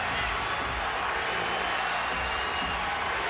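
A basketball arena crowd at a Lakers versus Cavaliers NBA game rises to its feet with a steady, dense roar of cheering that fills the whole stretch without a break.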